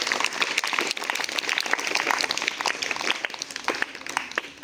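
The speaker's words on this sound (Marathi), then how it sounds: "शाबास, जोरदार टाळ्या वाजवा." Schoolchildren at a morning assembly break into loud, dense applause, many hands clapping together in a steady continuous burst that fills the whole stretch.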